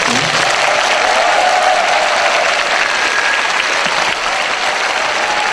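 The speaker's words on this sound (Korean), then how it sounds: "큰 박수 부탁드립니다" Sustained audience applause fills a political speech concert hall after a call to cheer for a candidate's wife, husband and son, dense and loud throughout with a faint crowd murmur, tapering slightly near the end.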